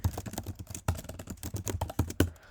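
Computer keyboard typing while C++ code is entered, a quick irregular run of close, crisp key clicks with short pauses between bursts, fairly quiet and without talk.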